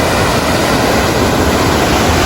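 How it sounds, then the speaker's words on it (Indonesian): A waterfall along a hiking route toward Bukit Cendono gives off a loud, steady, broadband roar that fills the whole stretch without pause, with no voices over it. "ternyata yang bikin suara gemuruh itu berasal dari air terjun ini."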